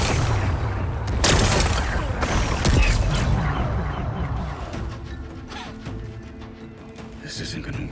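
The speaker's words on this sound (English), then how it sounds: "It's exploding." Explosion in the video game Horizon Forbidden West, a loud broadband blast with crashing debris that swells around the first few seconds, then rumbles and fades under game sounds with a voice talking.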